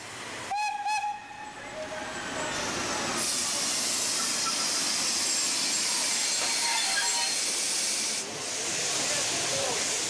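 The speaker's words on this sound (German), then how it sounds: "Hier ist es ein Sonderzug, der abends in den Bahnhof Solingen-Ohlichs einfährt." A special train hauled by an E94 Krokodil electric locomotive rolls into Solingen-Ohligs station in the evening, opening with short whistle-like tones, then a steady, loud rumble and hiss of passing wagons that holds for several seconds.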